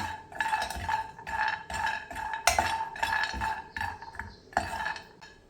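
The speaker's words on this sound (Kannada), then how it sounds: "ಡ್ರೈ ರೋಸ್ಟ್ ಮಾಡಬೇಕು ತುಪ್ಪ ಎಣ್ಣೆ ಏನೂ ಹಾಕ್ಬಾರ್ದು" A metal spoon clinks and scrapes against a pan as dry fruits are dry roasted without ghee or oil for ladoo. The taps come in quick, uneven bursts at moderate volume, with no one speaking.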